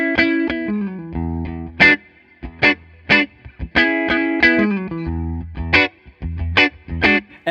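An electric guitar with its neck pickup blended with a humbucker plays clean, twangy, Tele-like chords and single notes through an effects unit, with sharp plucked attacks, sustained ringing tones and short pauses.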